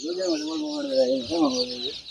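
Desi chickens on a small farm cluck in drawn-out, wavering calls, two clear phrases up close over a steady background hiss.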